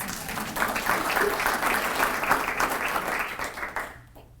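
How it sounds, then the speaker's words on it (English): An audience at a Friday forum talk applauds itself, even clapping from a moderate crowd heard at a slight distance, fading out abruptly near the end. "Now give yourselves a round of applause."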